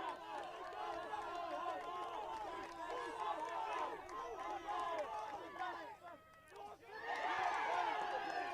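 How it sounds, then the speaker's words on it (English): A crowd at a Dunedin club rugby premier quarter-final, Dunedin versus Harbour, roars and cheers steadily from a distance, swelling again near the end, while commentators talk over it. "The crowd getting very exuberant here."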